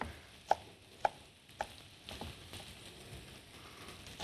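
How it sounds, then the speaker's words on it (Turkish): Knife chopping spinach on a cutting board in a home kitchen: three sharp, evenly spaced chops followed by softer scraping and light taps, close and fairly quiet, no talk. "Ispanaklarımı dilerseniz şöyle ortadan kesip de yapabilirsiniz."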